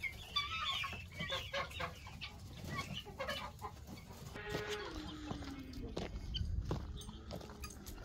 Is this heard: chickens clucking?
yes